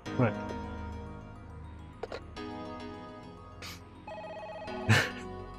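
A telephone rings in the PS1 game Parasite Eve, with tonal ringing bursts repeating over background game music, and a few sharp clicks between the rings.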